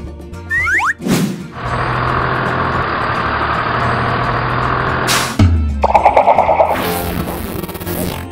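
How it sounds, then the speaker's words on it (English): A school bus's steady, rumbling diesel engine idles for several seconds, bracketed by brief clanks and sharp bangs, with a burst of rattling noise near the end. "School bus."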